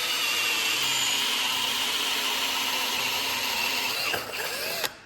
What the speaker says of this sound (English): And the old tapered reamer,